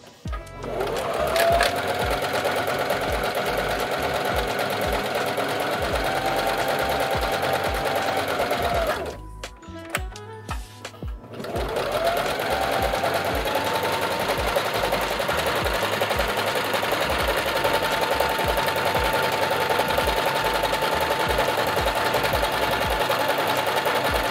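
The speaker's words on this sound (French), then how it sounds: "Lorsque vous êtes prêt, vous pouvez commencer à coudre." A Janome HD5000 sewing machine stitches fabric in a loud, steady whir that runs continuously, breaks off for about two seconds midway, then resumes at the same even pace to the end.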